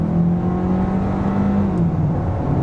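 A 2024 Hyundai Kona N-Line's 1.6-liter turbocharged four-cylinder accelerates on a back road, a steady engine drone with rising harmonics, loud and continuous throughout with no voices.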